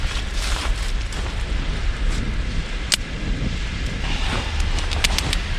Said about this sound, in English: The fire is lit.